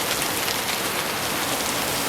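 Steady rain pours at a bus stop in a TV scene, a dense, even hiss that stays constant and loud throughout with no talk over it.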